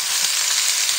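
Green beans and potatoes with bacon and onions sizzle in a pot as they are stirred, giving a steady, bright, close frying hiss for a brief moment with no talk.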